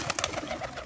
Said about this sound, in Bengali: দেখতেই পাচ্ছ পায়রা ভয়তে উড়ে যাচ্ছে